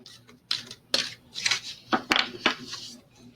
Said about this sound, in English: Just shuffle a little bit.